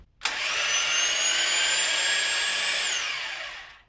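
A portable bandsaw mounted in a wall position switches on, runs with a steady high whine and motor hum for about three seconds, then winds down as it is switched off.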